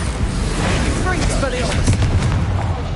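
Spell explosions from Confringo and Bombarda casts in the Hogwarts Legacy video game, a dense run of booming blasts and crackling bursts that fills the whole stretch at steady loudness.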